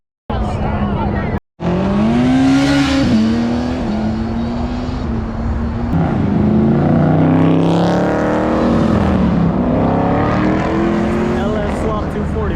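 A Nissan 240 with an LS V8 swap revs hard at an outdoor car meet, its loud, raw engine note rising and falling through repeated throttle blips for over ten seconds, with crowd voices talking over it.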